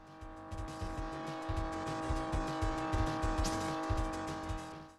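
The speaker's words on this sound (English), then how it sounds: "engine roars, screeching tires, metal crunching, are punchy and satisfying." Arcade-style car engine drone with rhythmic pulsing and tire screeching from the Chase H.Q. police chase video game, continuous and steady throughout with no voices.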